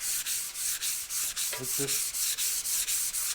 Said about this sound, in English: I'm going to take some 400 grit, and I'm first going to do this dry